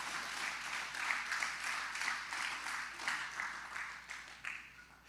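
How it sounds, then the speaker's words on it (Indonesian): Church congregation gives a faint, steady round of applause, a soft even patter of many hands heard from a distance and tapering slightly near the end. "Berikan tepuk tangan untuk Tuhan kita."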